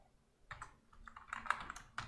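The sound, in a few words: typing code on a computer keyboard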